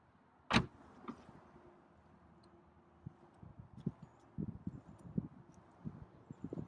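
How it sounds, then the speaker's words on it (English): A BMW 428i convertible's hood release lever is pulled twice, giving a sharp close click and then quieter clunks, with faint rustling and scraping around the car afterward. "Double pull of the lever."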